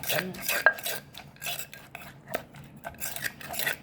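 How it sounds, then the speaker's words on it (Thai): A utensil tosses Thai papaya salad in a bowl with a run of quick scraping, clinking and sloshing strokes in an uneven rhythm. The sounds are close and fairly quiet, with no talking. "เราก็คลุกไปเรื่อย ๆ นะคะ จนน้ำตาลละลาย"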